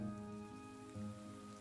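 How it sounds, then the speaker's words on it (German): Rain patters faintly and steadily on a street in the video game Behind the Frame, a soft continuous hiss under a quiet, sustained musical drone. "Das endlose Prasseln des Regens auf der Straße ist wie ein Lied ohne Worte."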